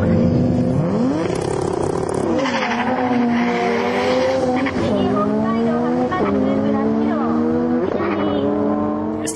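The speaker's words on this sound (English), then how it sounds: "This Supra uses a pair of HKS 3037 turbos with a neat air feed pipe from the headlight" A Toyota Supra with twin HKS 3037 turbos accelerates hard at a drag meet in Sendai, its loud engine note climbing in pitch and dropping back with each gear change, several shifts in a row.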